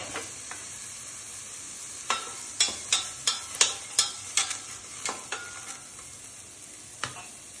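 Cumin, mustard seeds and chana dal crackle and pop in a pan as they are stirred, a quick series of sharp close pops in the middle with sparse ones before and after, over a faint steady hiss.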